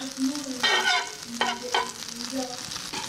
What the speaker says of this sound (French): Fondre la petite noisette de beurre.